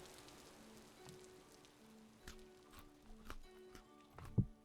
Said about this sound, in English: Of course, it's still raining.